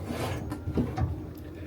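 A deep slide-out drawer on RV cabinet shelving is moved, giving a couple of soft wooden rubbing and sliding sounds with a light knock, close by and fairly quiet, with no talk.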